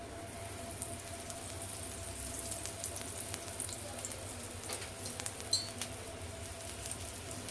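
Moong dal dosa batter spread thin on a pan crisps in a little oil at the edges, giving a soft, even crackling sizzle with faint scattered pops.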